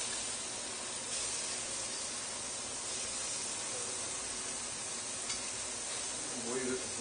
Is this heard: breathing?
no